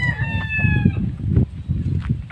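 A fighting rooster crows once up close, a loud ringing call lasting about a second, followed by shuffling and low clucks and bumps nearby.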